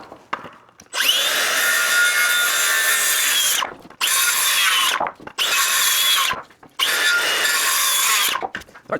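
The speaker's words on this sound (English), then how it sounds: "I always really liked this Makita saw" A Makita power saw cuts through wooden wall studs in four loud, close bursts of whining, rasping cutting, separated by short pauses.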